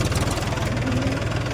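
A tractor engine runs steadily in a field while powering a stone-picking machine, a close, rhythmic low diesel throb with a faint knocking pulse throughout.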